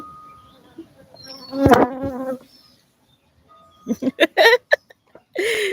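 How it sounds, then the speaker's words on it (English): A bee buzzes close by on a porch in brief, loud bursts, broken by short gaps and mixed with a person's laughing, startled vocal sounds. "being chased by a bee"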